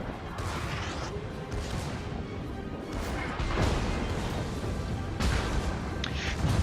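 Heavy battleship artillery in World of Warships, with Montana-class and tier 10 battleships trading salvos: a steady roar of booms and crashing impacts that builds louder midway, with sharp hits near the end.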